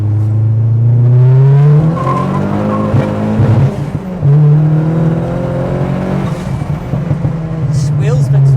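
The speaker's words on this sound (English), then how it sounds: "This wheel spin's fun, doesn't it?" A 1990s car spins its wheels with a loud, sustained engine drone and rising tire squeal, close by, while people talk over it.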